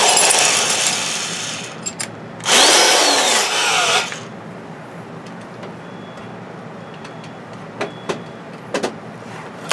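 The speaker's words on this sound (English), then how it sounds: "the drill will actually not fit." A power drill whirs loudly for about four seconds, then stops and leaves a quiet room with a few faint clicks and taps. The work is on a gas pipe installation with a Raspberry Pi.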